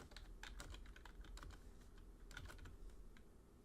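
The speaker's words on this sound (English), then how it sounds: "I'll just type whatever comes to mind." Typing on a computer keyboard, a quick irregular run of close, soft key clicks in uneven clusters with no talk, faint overall.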